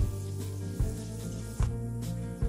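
Urad dal and chana dal frying in hot oil for suji upma, with a steady close sizzle and soft crackling, plus a few sharp pops and stirring bumps at regular intervals.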